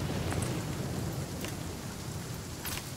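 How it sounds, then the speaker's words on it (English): Light rain falling in the survival game The Flame in the Flood, a dense, even patter with a low rumble beneath it that stays steady for a few seconds, with no talking. "Alright, now it's just sprinkling."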